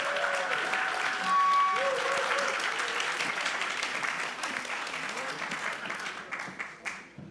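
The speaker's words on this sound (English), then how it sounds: "Give her a big applause" Applause and cheering rise from the crowd at a Volt Europa general assembly, loud clapping with a few whoops and voices over it that gradually thins out toward the end.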